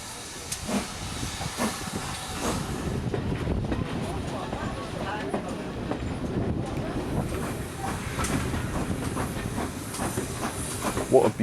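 A Manor Class steam locomotive runs on the Dartmouth Steam Railway, with a steady broadband hiss and rumble and faint rhythmic clatter, moderately loud and continuous throughout.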